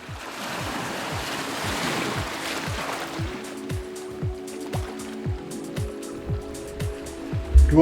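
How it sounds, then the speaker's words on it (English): Rough sea waves break on the beach at Varkala, a steady roar of surf and wind with repeated crashes rolling in close and loud. "now the sea is quite rough"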